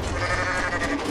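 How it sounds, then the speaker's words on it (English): A goat bleats in the video game Goat Simulator, a steady, fairly loud wavering call that fills the whole short moment with no talking over it. "But I still bleat, so that's fun."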